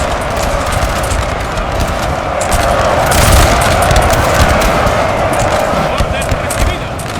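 Musket volleys crackle through a Napoleon Total War re-enactment of the 1809 Battle of Almonacid: a dense, continuous fusillade of overlapping shots with booming bursts, loud and sustained throughout.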